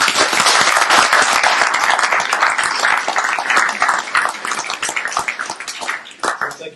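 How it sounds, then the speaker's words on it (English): Sustained audience applause at an evening event honouring Buster Bartlett, a 1937 Brooklands Gold Star winner. Dense, loud clapping from a full room continues throughout and thins only slightly toward the end. "Give Buster a good round of applause"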